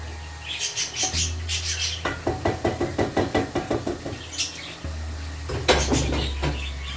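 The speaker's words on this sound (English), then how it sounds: "I need to actually go in and mash my tomatoes." Tomatoes mashed in a pot, a quick run of about a dozen wet, rhythmic knocking squelches in the middle, with scattered clinks of the utensil against the pot before and after, close and fairly loud.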